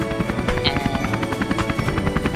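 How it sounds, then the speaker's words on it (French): Steady chopping rotor of a helicopter in the video game Dirge of Cerberus, loud and continuous, with rhythmic thumping blades over an engine whine. "Bon, vous avez quoi pour flinguer cet hélicoptère?"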